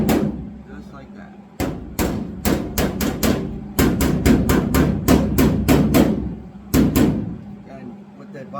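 Body hammer tapping on still-hot metal in a workshop: a long run of sharp, evenly spaced metallic strikes in bursts, close and loud, with brief pauses between groups.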